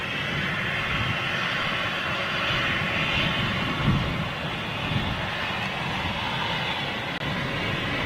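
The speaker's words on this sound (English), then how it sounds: "Here comes a little ATR in the Flybe livery, which is quite nice to see." An ATR turboprop airliner in Flybe livery passes near London City airport, producing a steady, broad engine drone at moderate loudness that stays fairly constant with only slight swells.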